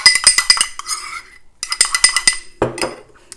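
Metal utensils clink against a bowl while shrimp taco seasoning is mixed, giving two bursts of quick, bright taps separated by a short pause, then a duller scrape near the end.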